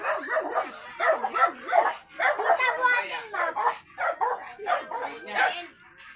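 A dog barks and yips repeatedly at close range in short bursts, sometimes whimpering, with someone speaking soothingly over and between the barks.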